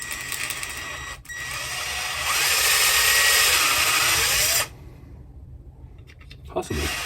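A high-speed drill bores into a part of a cheap soldering iron, whining loudly and steadily for several seconds before cutting off, with brief clicks and handling noise afterward.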